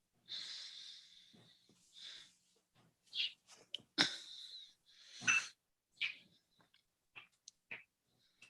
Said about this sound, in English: What's that sound? Parang breathing or hissing?